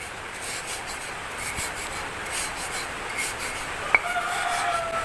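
Go Potato snack being crushed and mashed by hand into fishing bait for nilem fish, a continuous close rubbing, rasping scrape with one brief sharp tap partway through, no voices.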